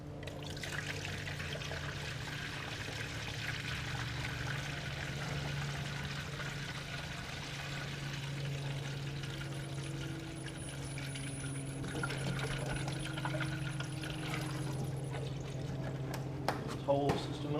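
Distilled water pouring steadily into the radiator of a Nissan S13 240SX convertible, a continuous low trickle and gurgle held at a quiet level for the whole stretch, with a few small clinks near the end.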